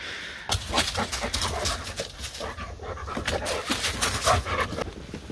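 Dogs pant hard and steadily, close by, while digging to get a mouse out of the ground outdoors. Faint whimpers and scuffling mix into the continuous rapid breathing.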